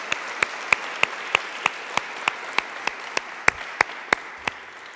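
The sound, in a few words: audience applause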